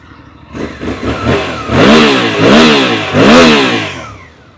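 A Suzuki V-Strom 800 RE motorcycle engine idles with a faint clatter, then revs hard three times in a row, each blip rising and falling, loud and close with no talking.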